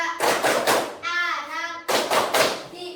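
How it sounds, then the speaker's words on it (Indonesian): Children clapping hands in a classroom while counting multiples of three aloud, with bursts of sharp claps between spoken numbers and voices throughout. "Tepuk bilangan kelipatan 3"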